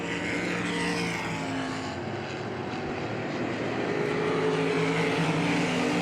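Race cars roaring around Hagerstown Speedway in the closing laps, a dense, loud continuous engine drone with pitch sweeps as cars pass, no voices heard.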